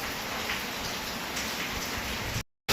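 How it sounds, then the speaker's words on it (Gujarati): Heavy, steady rain pours down in the evening, a dense continuous hiss that holds evenly until a short gap of silence near the end, then resumes loudly. "1 કલાકથી વરસાદ ચાલુ જો ધમ ધોકાર"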